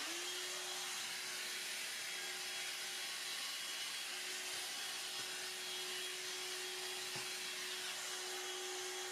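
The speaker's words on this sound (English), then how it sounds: "You can vacuum spots that you wouldn't be able to get to with a regular full-size vacuum." A Hoover Air Cordless 20V lithium-ion bagless hand vacuum runs steadily on its own for the whole stretch, a constant high whine over broad airy suction noise, with a couple of faint bumps as it moves over floor spots.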